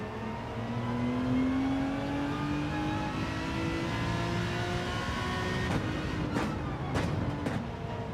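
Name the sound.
race car engine revving in Gran Turismo 7 video game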